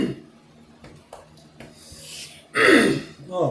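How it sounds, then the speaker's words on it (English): A person clears their throat with a brief rough rasp near the end, after some soft breaths and rustling. "I'm trying to clear my throat"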